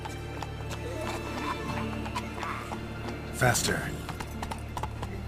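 Roach, a horse in The Witcher 3 video game, clip-clops along in a steady hoofbeat rhythm with a brief whinny partway through, under game music and a spoken line.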